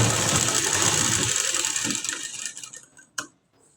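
Sewing machine running close by as it stitches hooks and buttonholes on a blouse, a dense steady whir for over a second, then slowing into scattered clicks and a sharp tap before stopping.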